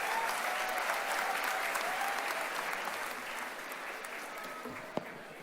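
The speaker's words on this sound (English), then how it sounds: "A big round of applause for all students." A convocation crowd applauds diploma students at the VJTI ceremony in Mumbai, dense sustained clapping that fades slightly toward the end, with one sharp louder clap near the close.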